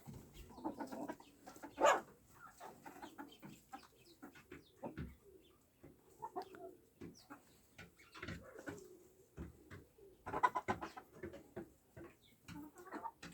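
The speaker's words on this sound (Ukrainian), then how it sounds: "віддамо такого півника чорного китайського шовкового" Black Chinese Silkie rooster kept with hens on a farmstead, giving scattered clucks and short calls at close range, with a couple of louder squawks standing out among quieter rustling.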